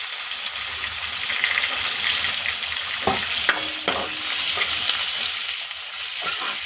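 Onion, tomato and coriander sauté in hot oil in a pan, giving a steady close sizzle with a few sharp scrapes and clinks of a stirring spoon.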